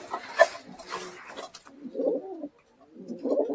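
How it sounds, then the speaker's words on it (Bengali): Murshidabadi pigeons coo in soft, low bursts at close range, with a few rounded calls separated by short pauses and some faint rustling at the start. "ওগুলো মুর্শিদাবাদী এলেন কবুতর দেখেন একটা"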